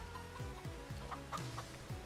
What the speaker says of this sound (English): We have 131 chickens.